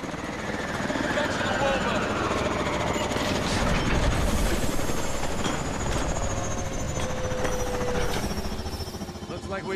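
Warbird aircraft engine in the video game Call of Duty Advanced Warfare, a loud, steady helicopter-like rotor drone with rumbling low end that fills the whole stretch, with game voices over it.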